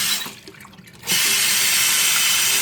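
Water gushes from a tap after a brief quieter moment, switching on abruptly to a loud, steady hiss that runs unbroken to the end, with no talking.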